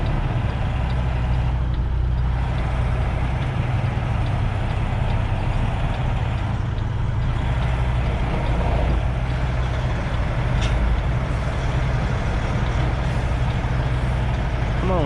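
Semi truck backing up in a yard, steady loud diesel engine rumble with brief air-brake hisses over a continuous low drone, no talk.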